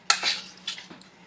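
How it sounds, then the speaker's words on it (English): Chopped garlic mashed in a kitchen, heard as a few short, close scraping and tapping knocks of a utensil against a board or bowl, with brief pauses between strokes and no voices. "Mashing this up nicely here."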